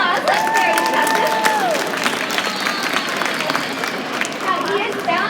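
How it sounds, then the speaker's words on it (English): Audience applause and cheering at an indoor sea lion show in a shopping mall, a steady crowd wash of clapping sustained throughout, with whistle-like tones and voices mixed in. "Give him a round of applause."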